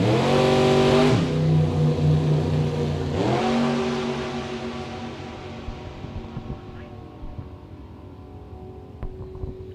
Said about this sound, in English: 1934 Roadster with 555 cubic inches of big block power.